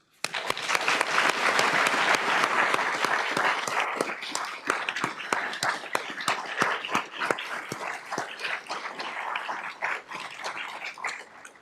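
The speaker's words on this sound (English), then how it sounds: "a big round of applause" Audience clapping after a medical lecture, swelling quickly into a loud, dense round of applause that stays full, then thins into scattered individual claps as it slowly tapers off.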